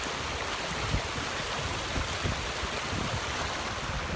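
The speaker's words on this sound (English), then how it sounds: "I wanted to stop and show you the force of the water coming down here." Stream water rushing downstream with force near Square Corner and Silton Forest, a loud, continuous broadband roar and gurgle, steady and close with no voices.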